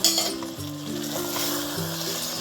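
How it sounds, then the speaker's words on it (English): Paneer, onion and bell peppers sizzle steadily in a kadai while being stirred, with close, continuous frying hiss and light scraping of the spoon. There is no talking, and soft background music plays underneath. "So just mix it gently and cook for cook the paneer for 6 to 8 minutes."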